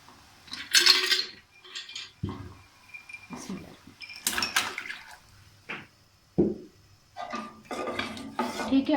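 A pot of Kashmiri pink tea being stirred, with close metallic scraping and clinking of a spoon against the pot in irregular bursts, some louder knocks between quieter stretches.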